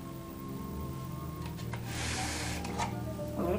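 A Hague Linker machine hums and clatters in a steady mechanical rhythm while it links a knitted garment with a chain stitch, with small ticks on top.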